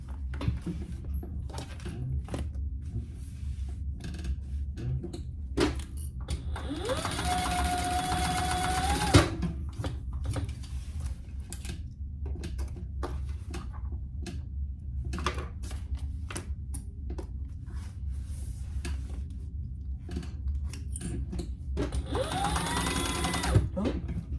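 A sewing machine bastes pieces of a crossbody wallet in place, running in two steady whirring bursts close up, separated by a stretch of handling clicks and a low background hum.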